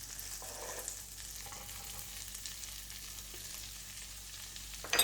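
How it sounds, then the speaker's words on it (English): Onion frying in butter for a creamy peppercorn sauce, a faint soft sizzle with occasional gentle stirring scrapes and a louder clatter at the very end, close and quiet with no talk. "you just keep stirring the onion until it is nice and tender"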